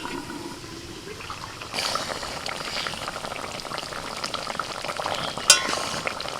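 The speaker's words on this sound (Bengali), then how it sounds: "মশলাটা ফুটছে ভাজা মাছ দিয়ে দিচ্ছি" A mustard-paste spice gravy for silver carp bubbles and simmers in a pan as fried fish pieces go in, a steady close boiling hiss that grows denser partway through, with a brief sharp clink near the end.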